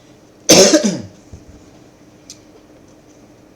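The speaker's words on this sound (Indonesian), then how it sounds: "Mohon maaf saya batuk-batuk ini karena memang kondisi lagi sakit" One sharp, loud cough close by from a sick speaker, rough and breathy, followed by quiet room sound and a couple of faint clicks.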